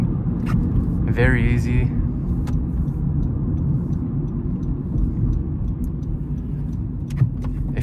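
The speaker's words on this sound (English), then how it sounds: "Downshifting," A 2019 Honda Civic LX with a 6-speed manual transmission hums and rumbles steadily from inside the cabin while downshifting, a low constant engine drone with a driver talking over it.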